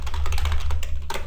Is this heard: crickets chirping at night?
no